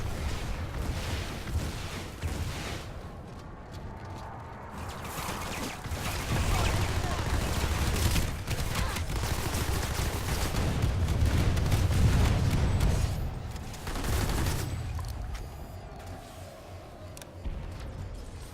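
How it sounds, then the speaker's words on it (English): Dense, continuous rumbling explosions and rattling gunfire from a Planetside 2 battle, loud and layered, with heavy booms swelling in the middle. "Lots of explosions."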